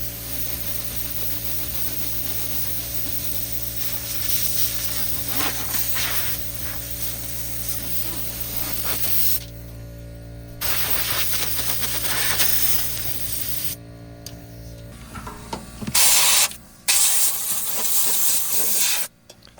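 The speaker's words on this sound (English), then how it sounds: "I've got the air compressor out. Let's give everything a really good cleaning." An air compressor blasts dust and grime off a tractor engine with a loud, steady, close hiss of compressed air. It cuts out briefly a few times, and short sputtering bursts come toward the end.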